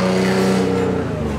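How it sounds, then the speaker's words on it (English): A turbocharged Nissan 370Z making over 500 hp drones loudly and close while warming its tires, a brief steady engine tone with strong low harmonics that shifts slightly near the end. "Warming up the tires?"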